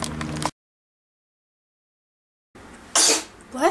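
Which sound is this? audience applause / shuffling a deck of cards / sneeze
sneeze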